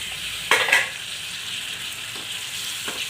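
Prawns frying with coriander powder and turmeric in a pan, a steady sizzle broken by a couple of sharp stirring scrapes close up, no voices.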